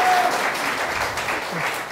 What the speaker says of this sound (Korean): 박수를 좀 함께 해주시면 감사드리겠습니다